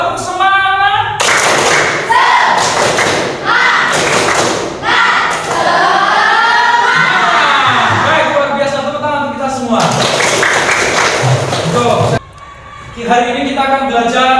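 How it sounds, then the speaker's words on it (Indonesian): A classroom of students performing the tepuk semangat spirit clap, loud rhythmic group clapping in bursts with shouted chants and voices between the clap patterns. "Tepuk semangat."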